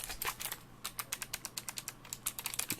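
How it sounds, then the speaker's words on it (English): Keys of a thin Logitech G915 keyboard click in a rapid, uneven string of sharp taps, close and crisp with no talking. "You can hear the keys click."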